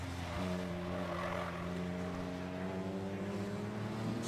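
Race car engines at a CSCC New Millennium circuit race, a loud sustained multi-cylinder drone with rising revs as a car pulls away into the lead, other cars audible behind, no talk.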